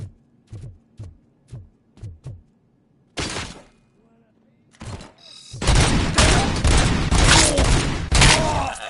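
Gunfire in Robocop Rogue City: a string of separated single shots, then a burst, then a long, loud sustained volley of rapid automatic fire with explosions, close and dense.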